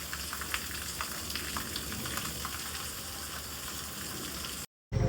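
Heavy rain falls steadily, a dense, even hiss and patter close by with no voices, broken by a brief silent gap near the end.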